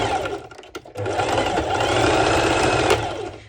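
Close, loud whirring of a sewing machine running a straight stitch to ruche elastic on a halter-neck top, a fast continuous mechanical buzz lasting a few seconds after a brief pause.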